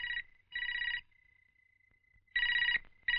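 A telephone rings in two-tone electronic bursts, a pair of trills followed by a sustained thin tone, then more trilling rings, fairly close and alone.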